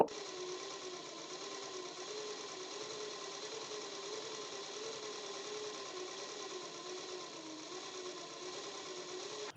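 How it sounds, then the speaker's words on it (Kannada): Electric sewing machine running steadily while stitching piping along a blouse edge, a continuous close whirring hum with no pauses and no talk. "ಪೈಪಿಂಗ್ ಪಕ್ಕದಲ್ಲೇ ನೇರವಾಗಿ ನಾವು ಸ್ಟಿಚಸ್ನ ಹಾಕೋಬೇಕು"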